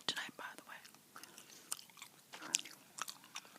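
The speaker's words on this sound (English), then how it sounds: "sugar-free chewing gum." Soft, close chewing of Bazooka sugar-free gum, with quiet wet smacks and small crunchy bites repeating irregularly at low volume, whispered speech drifting in between.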